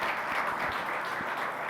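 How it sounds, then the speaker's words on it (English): Audience at an electric-vehicle company's investor day presentation breaking into a brief round of applause, a dense steady wash of clapping from a crowd, heard on its own. "give this team a big round of applause"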